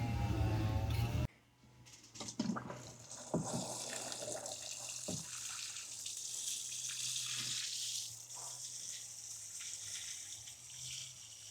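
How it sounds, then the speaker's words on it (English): Water splashing and pouring steadily over plants in a greenhouse in early February, a continuous close gush lasting several seconds after a brief louder start. "I'm going to give all of this a water"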